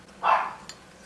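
One of the household dogs lets out a single sharp bark, fairly close, in a quiet home kitchen, followed by a faint short sound.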